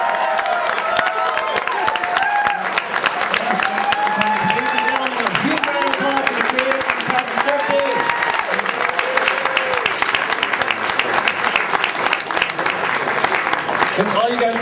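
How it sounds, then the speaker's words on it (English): A cinema audience at a film reunion screening applauds loudly and steadily, dense clapping mixed with crowd cheering and voices talking over it throughout. "Ladies and gentlemen, a huge round of applause"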